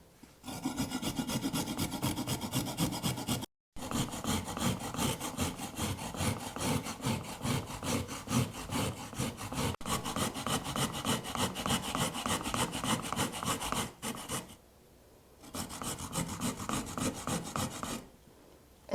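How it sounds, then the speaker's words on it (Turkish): A carrot is grated on a fine grater in quick, even rasping strokes, close and steady, with a couple of short pauses and no talking. "Ufak rendeden havucu rendeleyelim."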